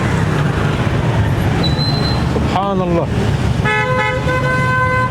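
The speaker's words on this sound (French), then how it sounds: "Vous voyez la circulation, hein?" Busy road traffic in Pakistan rumbles constantly while car horns toot, one short honk midway and a longer blaring horn near the end; a voice speaks briefly.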